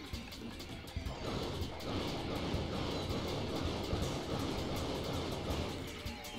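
In Paper Mario: The Thousand-Year Door, a train rolls along its tracks, giving off a steady, dense rumble with faint rhythmic clicks throughout.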